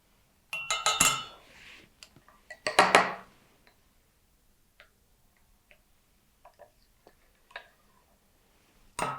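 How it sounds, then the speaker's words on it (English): A spoon stirs cups of coffee at a coffee tasting with bright metal-on-ceramic clinks, two busy bursts of rapid taps followed by scattered faint single ticks and quiet pauses. "let's just stir the coffees"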